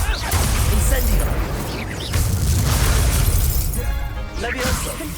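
A fire spell from Hogwarts Legacy bursts in a loud crackling blast amid dense game combat noise, with whooshes, impacts and a shouted spell name in the mix.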